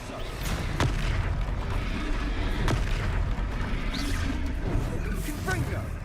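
Booming blasting-spell explosions from the Hogwarts Legacy video game, a dense, continuous barrage of loud thuds and crackles with a few sharp bursts, under game voices calling out spells.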